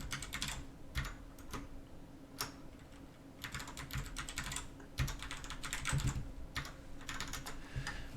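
Password being typed on a computer keyboard: quiet, close bursts of rapid key clicks separated by short pauses, with a few louder single taps.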